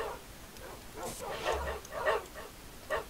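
Several short dog barks and yips from a dog in the video game Minecraft sound at an uneven rhythm, fairly faint and without talking.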